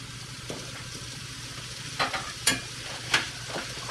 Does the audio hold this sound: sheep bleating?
no